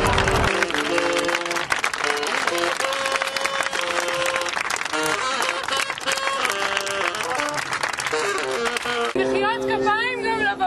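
An audience in a theatre applauds, with dense clapping blended with loud music and voices throughout.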